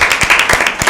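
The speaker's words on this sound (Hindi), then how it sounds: "टीम ए के लिए भरपूर तालियां।" An audience claps for a team at a Lent Bible quiz, close and loud, with a few distinct hand strikes standing out in a short burst of applause.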